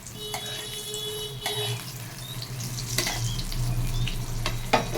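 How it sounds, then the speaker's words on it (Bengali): Eggplant and pointed gourd fry in oil in a home kitchen, a steady close sizzle with a low hum beneath and several sharp clicks and clinks as the pieces are turned. "আমার এদিকে বেগুন আর পটলগুলো এক পিঠ ভাজা হয়ে গেছে। আমি আর এক পিঠ উল্টে দিচ্ছি।"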